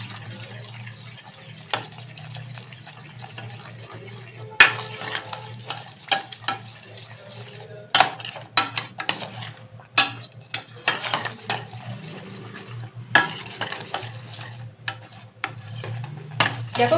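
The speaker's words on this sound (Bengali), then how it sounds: "এবারে থামলে চলবে না, খুব ভালো করে নাড়তে হবে।" A spoon scrapes and clinks steadily around a pot of thickening mango pudding mixture cooking on a gas stove, with soft sizzling beneath and a few louder knocks against the metal, and no voices.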